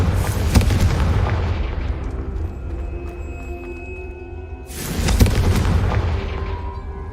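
Confringo blasting spell in Hogwarts Legacy, two loud close explosions a few seconds apart, each a sharp boom trailing into a long ringing rumble that fades before the next hit.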